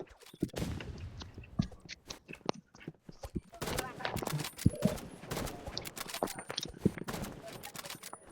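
Sniper and other gunfire in a Roblox game crack in sharp, scattered shots and short bursts, close and loud, while people chat excitedly over the action.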